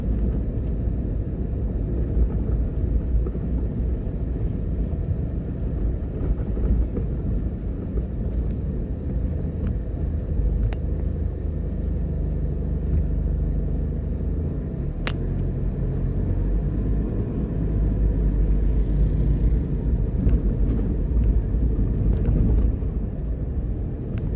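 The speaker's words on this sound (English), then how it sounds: "This is the evening traffic for people going home." Evening road traffic in Uptown Kingston, Jamaica, rolls past as a continuous low rumble of engines and tyres, steady and fairly loud throughout, with occasional faint clicks and no talking.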